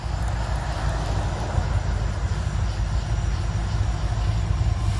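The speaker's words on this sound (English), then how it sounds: "Train coming." A loud, steady rumble of a passing CN freight train, continuous and unbroken throughout, with no voices.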